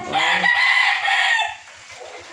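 A young gamecock stag crows once, loud and close, its drawn-out call held for about a second and a half before it breaks off. Faint clucking or scratching follows at the end.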